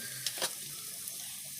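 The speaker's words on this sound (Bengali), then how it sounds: "কাশ্মীরি লঙ্কার গুঁড়ো জিরের গুঁড়ো সমস্ত দিয়ে মশলাগুলো কষিয়ে নিলাম" Spices such as Kashmiri chilli powder and cumin powder frying in a pan for Bengali tilapia kalia, a soft, brief sizzle with a couple of quick scraping stirs close by, no talk.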